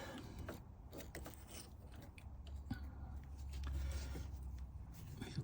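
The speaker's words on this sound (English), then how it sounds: "It's got to run the lathe quite a bit slower now." A 1/4 inch reamer cuts in a lathe turning at reduced speed while machining a PM Research #3 engine part, giving a steady low mechanical grinding hum with faint scraping and clicks that swell slightly toward the end.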